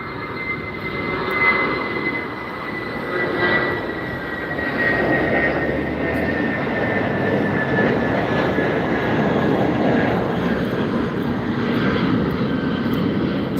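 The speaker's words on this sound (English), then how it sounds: "Banana plane." An airplane passes at Los Angeles International Airport, its engine roar swelling and holding loud with a steady high whine, continuous for over ten seconds without talk.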